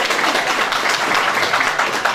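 A ceremony crowd at a building opening applauds, a dense and steady wash of clapping filling the whole moment at close range.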